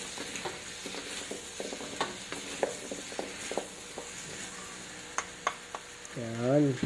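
Coconut milk goes into a chicken curry sizzling in a pan. Steady close frying hiss is broken by stirring clinks and scrapes, and a louder burst of sizzle rises near the end as the liquid hits the hot pan.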